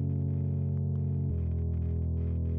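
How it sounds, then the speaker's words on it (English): A thin synth chord sound, the main chord layer driving an arrangement, plays as sustained stacked chords alone, shifting to a new chord about halfway through with a steady, dense tone. "So our main chord sound that drives the arrangement sounds like this."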